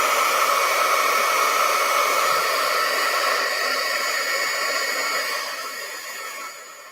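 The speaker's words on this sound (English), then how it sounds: "Dryer is going on if you want to turn the sound off." A hair dryer runs steadily with a loud, continuous airy whoosh that fades somewhat toward the end, with no voices.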